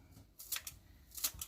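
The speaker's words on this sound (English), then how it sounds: "use my scissors. So I'm going to chop off the end" Scissors snipping off the end of a package while preparing orange chicken, a couple of short, faint crisp cuts close by with quiet handling noise between them.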